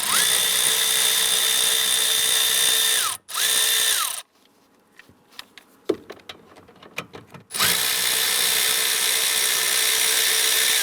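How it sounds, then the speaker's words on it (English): A power driver with an 8mm socket runs in two long whirring bursts, loosening screws on a 2005-2010 Chrysler 300 hood release handle, with light clicks and clatter between the bursts. "We use our 8mm socket to go ahead and loosen and remove these two screws holding the handle."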